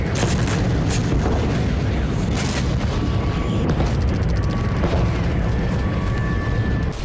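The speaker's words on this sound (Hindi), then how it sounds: "तभी अचानक धमाकों की गूंज से थर्राने लगा डोनेस्क।" Heavy, continuous rumbling booms and blasts in Donetsk during the Russia-Ukraine war, dense and loud, with sharp cracks at the start and a few thin tonal whistles threading through.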